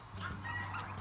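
Poultry calling near a young six-month-old hen in a backyard flock, a steady run of throaty fowl vocalizations over a low hum, with no talking.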